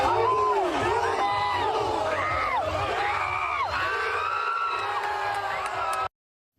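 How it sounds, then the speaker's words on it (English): A large crowd of spring breakers whoops, yells and cheers loudly and continuously at street fights, with many overlapping shouting voices close by. "Some of them were cheering on the fights."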